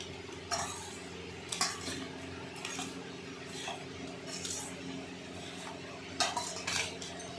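Cutlery scraping and clinking against a pan while Maggi masala is stirred through chopped tomato, onion and green chilli, several separate scrapes spread over the stretch above a steady low kitchen hum, with no talk.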